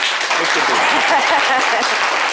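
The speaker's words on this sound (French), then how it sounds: "Applaudissez Meko Beni" A crowd claps loudly and steadily for a couple of seconds, dense and continuous applause.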